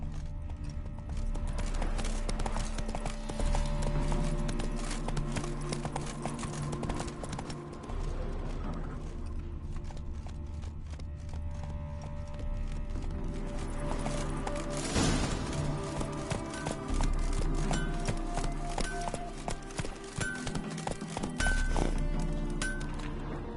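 Roach the horse gallops in The Witcher 3, steady clip-clop hoofbeats running continuously and close, with a brief whinny and rider calls in the mix.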